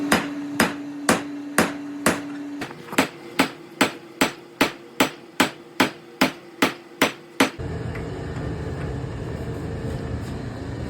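A blacksmith forges a hammer head from hot steel, drawing out the peen and fullering the corners. About sixteen loud, ringing hammer blows land in a steady rhythm, then the striking stops, leaving a broad roar of background noise.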